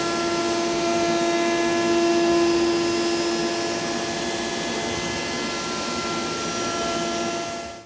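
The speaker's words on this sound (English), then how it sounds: "the Triton 3 1/4 horsepower router, whether it's handheld or in the Craig table" A Triton 3 1/4 horsepower router runs mounted under a router table, giving a loud, steady high-pitched whine with a strong tonal hum that holds for several seconds and then starts to fade.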